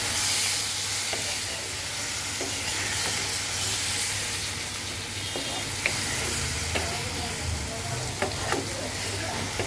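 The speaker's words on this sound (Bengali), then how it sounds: "দেখো মশলাটা যখন কয়েক মিনিট কষানো হয়ে যাবে, এখন আমি দিয়ে দেব কষানোর জন্য হালকা একটু জল।" Spice paste frying in a pan after a little water has been added, giving a loud, continuous close sizzle and hiss with occasional stirring scrapes and no talking.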